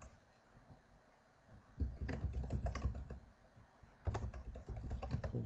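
Rapid typing on a computer keyboard, quiet at first and then louder in two dense bursts of clicking keys, close by with no voices.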